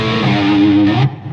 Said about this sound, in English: this is a sound which goes through the distorted channel on the Bad Cat